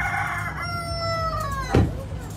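A rooster crows once at an outdoor flea market, a clear harmonic call rising and falling over background crowd chatter, followed by a brief louder bump.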